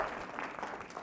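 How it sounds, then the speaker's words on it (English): Applause from an audience at a seniors' group presentation, a steady dense patter of many hands clapping throughout the short moment, fairly close and even in level. "Everybody give Janet a round of applause"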